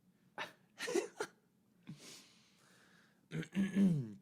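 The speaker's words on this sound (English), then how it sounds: "how casually, nonchalantly coughing during the podcast" During a podcast, a person gives several dry, close coughs and throat-clearing bursts in uneven clusters, separated by short pauses of quiet breathing.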